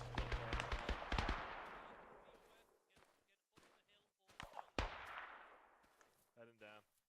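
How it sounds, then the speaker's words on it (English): Scattered gunshots crack through a winter co-op Arma military game, several sharp reports near and some farther off, with echoing tails and quieter gaps between the bursts. "one of those shots came from inside a building somewhere"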